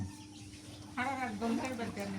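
Several birds call in short bursts, with a hen clucking and chicks chirping higher, layered together around a chicken coop, fairly close, over faint background noise.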